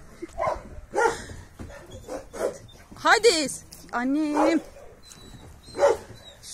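Several dogs bark, yip and whimper in short, scattered bursts close by, with a few longer whining calls in between, while someone talks over them outdoors.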